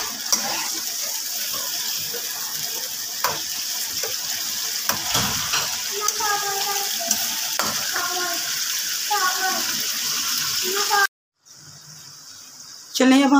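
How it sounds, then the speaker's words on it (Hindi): Chicken frying in a karahi for a Shinwari-style Peshawar karahi, a steady close sizzle with scattered stirring clatter, a brief drop to near silence near the end, then a quieter hiss resuming. "इसे तब तक फ्राई करेंगे जब तक ये चिकन का कलर थोड़ा सा गोल्डन ना हो जाए"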